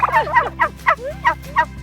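A flock of turkeys gobbles loudly and close by, a rapid series of rattling gobbles repeating in quick bursts with no talking over them.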